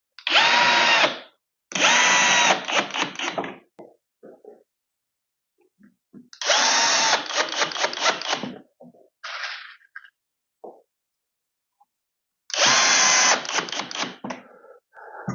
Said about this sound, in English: Line these holes up with the holes on our frame side and fix those with the same screws.